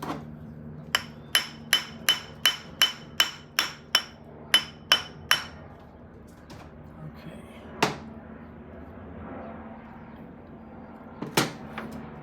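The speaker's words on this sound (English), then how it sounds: "So let's see if I can tap it up, get it into place." A hammer taps a metal drift into a part on a vintage British motorcycle, about a dozen sharp, evenly spaced metallic strikes in quick succession, then two more isolated knocks after a pause, close and clear.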